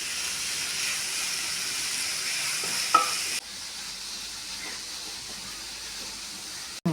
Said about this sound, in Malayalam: ഇത് ഒരു ബ്രൗൺ നിറമാകുന്നത് വരെ വഴറ്റിയെടുക്കാം